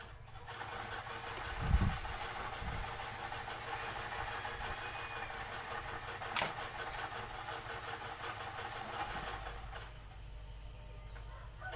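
A refrigerator compressor runs after being cleaned with petrol and plugged in, giving a low, steady hum with a faint mechanical rattle, fairly quiet, with a couple of brief knocks nearby and no talking.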